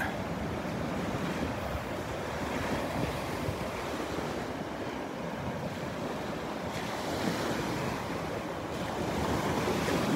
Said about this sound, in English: The Song of the Waves.